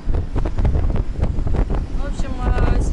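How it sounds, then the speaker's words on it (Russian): Hurricane-force wind from Hurricane Nicole buffets a boat anchored in Hooker bay, Florida, roaring and gusting close to the microphone in loud rumbling bursts while a person speaks over it. "ветер стабильно дует"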